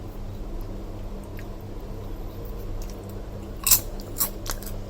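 Homemade butter popcorn is bitten and chewed up close, a few crisp crunches rising out of a quiet, humming background toward the end.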